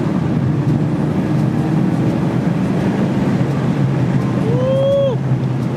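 A Subaru WRX with new bracing and a repaired misfire drives under acceleration, giving a steady low engine drone and wind rush from inside the car, with a brief tonal squeal near the end.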